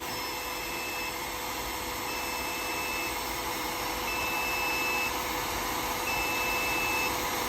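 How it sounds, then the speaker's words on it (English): A steady electronic alarm tone from a JUNBPAW LGE-3080 pure sine wave power inverter beeps at regular intervals over a constant loud whirring hum, like a fan or motor running underneath. "You can hear the audible alarm now."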